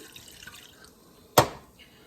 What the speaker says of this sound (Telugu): నాకు కావాల్సినంత వాటర్ ఇందులో పోసుకొని,